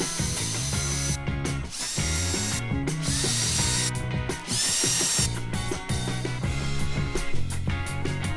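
Power drill driving screws to attach small feet to the bottom of a painted wooden table, repeated close whirring bursts with ratcheting clicks, loud and busy throughout, no speech.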